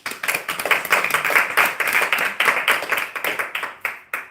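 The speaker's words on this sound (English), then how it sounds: "if you guys can give them a great round of applause" Audience applause at a bookstore author conversation event, a modest crowd clapping in a lively rhythmic burst that stays loud and close before thinning toward the end.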